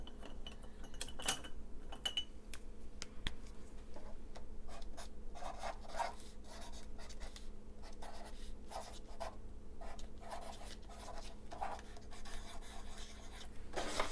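A pen writing on paper during a papercraft envelope folio project, with close, continuous scratchy strokes and small taps, quiet and without talking over it.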